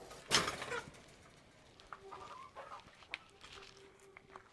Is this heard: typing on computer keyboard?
no